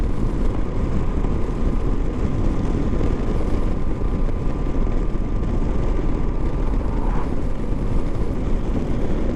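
A Moto Guzzi V85TT motorcycle carrying a pillion passenger pulls gently up through the gears, its engine a steady low rumble heavily mixed with buffeting wind noise, loud and continuous throughout.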